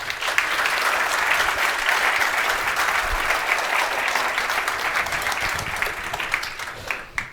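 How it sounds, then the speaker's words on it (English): An audience at a Paris quantum business conference gives a long, full round of applause for a Nobel laureate, steady dense clapping that thins slightly toward the end with a few last claps. "please welcome once more with a big round of applause, Nobel Laureate Professor Alain"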